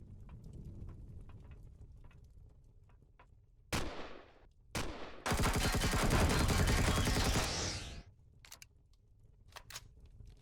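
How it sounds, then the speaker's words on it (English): Enemy gunfire in Empyrion Galactic Survival, with sharp single shots around four and five seconds, then a dense sustained burst of rapid fire lasting about three seconds, over a low game ambience. "He's firing at me."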